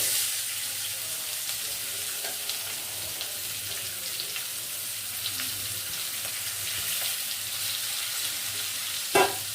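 Chopped onions fry in a pan for a mutton maharani dish, giving a steady soft sizzle throughout with a few faint stirring clicks and a brief louder scrape near the end.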